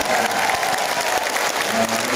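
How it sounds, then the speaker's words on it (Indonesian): A crowd at a comedic Ramadan religious gathering in Indonesia breaks into applause. The clapping is dense and loud and fills the whole short moment. "tepuk tangan untuk sahabat Anda."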